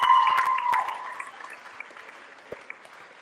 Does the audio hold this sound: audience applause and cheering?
yes